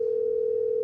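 A steady, clear tone from a telephone line, held evenly and fairly loud for the whole moment and cutting off right at the end, with no one speaking over it.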